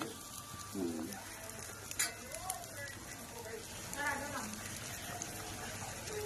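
Ingredients for puran poli being stir-fried in a pan, a soft steady sizzle with occasional scraping stirs, with a voice speaking over it.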